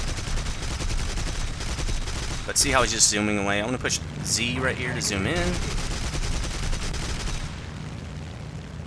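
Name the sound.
aircraft cannon fire in War Thunder video game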